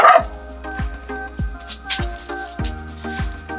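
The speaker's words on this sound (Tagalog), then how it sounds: "Maingay ang aso na to." A house dog in a Filipino family home gives a series of short, regularly spaced barks, close and fairly loud, over a steady tonal background hum.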